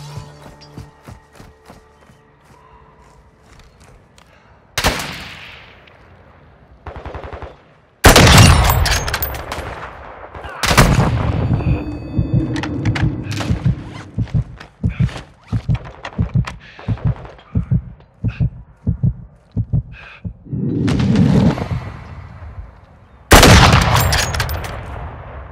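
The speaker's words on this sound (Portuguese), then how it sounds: "Estão atirando em mim." Gunfire in Call of Duty: Modern Warfare II comes as sharp, loud bursts and rapid strings of shots, separated by quieter stretches with lighter impacts and footstep-like taps.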